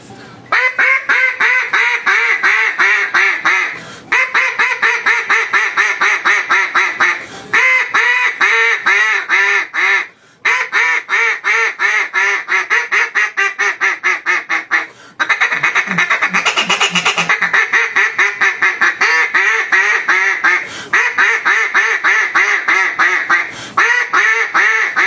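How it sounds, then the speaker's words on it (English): A Queen B.I.G. duck call fitted with a single reed is blown in steady runs of loud, raspy quacks, close and continuous, broken only by a few short pauses. "I'll grab a single reed and have some sounds on a single reed."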